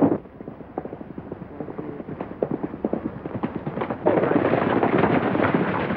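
Horses galloping in a 1932 western film: a steady stream of hoofbeats close by, growing louder and denser in the last couple of seconds as more riders join, with no talk.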